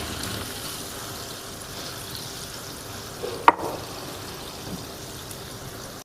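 Potatoes and soaked paneer fry in a pan for butter paneer, a soft, steady sizzle broken by a single sharp utensil clink midway.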